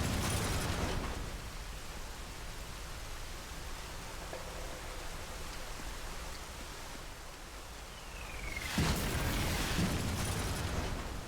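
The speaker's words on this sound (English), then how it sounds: "Mortars! Gotta find cover!" Mortar explosions in an online shooter video game, heard as broad, rumbling noise bursts: one heavy blast at the start, a long roaring wash, then another loud impact near the end, with no speech.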